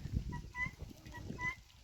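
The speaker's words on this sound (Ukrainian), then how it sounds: "Вийшла попасти качок. Хай прогуляються трошки" Farm ducks let out to graze give soft, repeated quacking calls in short bursts, fairly faint and close, over low rustling outdoor background on a household farm.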